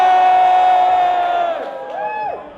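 A rock concert crowd at Nottingham Rock City cheers and whoops loudly, a dense roar of many voices that fades, briefly rises again with a few shouts, then dies away.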